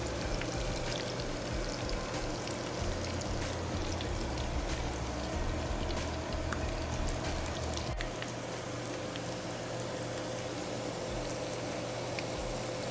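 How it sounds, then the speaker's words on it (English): Onions sauté in bacon fat inside a Ninja Foodi, giving a steady, even hiss and crackle that runs continuously, close and moderately loud, with no talking. "Saute the onions up in the bacon fat."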